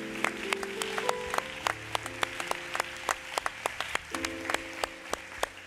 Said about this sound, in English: why don't you just give God a hand clap of praise today